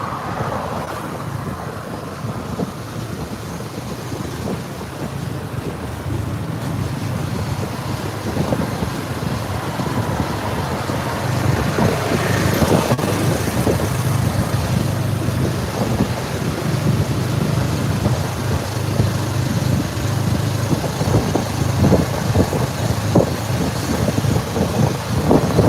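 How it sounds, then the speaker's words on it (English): Motorcycle-pulled open tuk-tuk carriage (remorque) riding along, a steady loud rush of wind buffeting the microphone over a low engine rumble, continuous throughout. "It's more like a little carriage that's getting pulled by a motorcycle."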